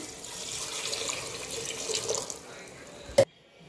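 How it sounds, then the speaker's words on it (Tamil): Water streams from a tap into a pot for bottle gourd curry, already holding garlic, cumin, turmeric and salt. A steady, fairly soft rush ends with a sharp clank as the flow stops. "இதில் கொஞ்சம் தண்ணி போட்டுக்கலாம்."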